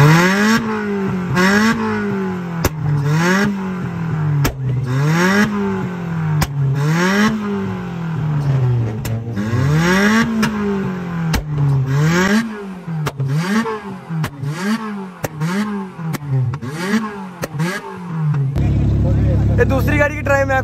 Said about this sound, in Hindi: इसको रेस दे के चाबी ऑन ऑफ करो, पटाखा मारेगी पीछे से